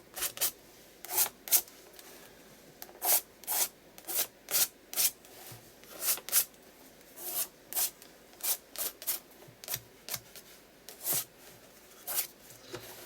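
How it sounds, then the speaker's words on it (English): A spatula dragging paint colour across and down a surface, giving a quick series of short rasping scrapes in an uneven rhythm, close and fairly quiet, with no voices. "I'm using a spatula just to scrape the colour across and up, just dragging it down"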